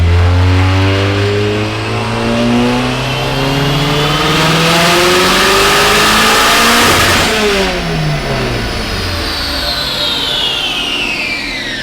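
A VW 1.8T engine swapped into a BMW E36 revs hard through a dyno pull, its loud rising drone climbing steadily in pitch for about seven seconds and then falling away, close and continuous.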